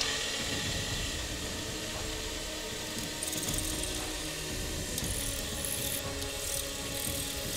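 A drill press whirs and grinds steadily through sheet metal while making a crown, a dense mechanical rasp with occasional sharper high-pitched scraping bursts, close and continuous, with no talking.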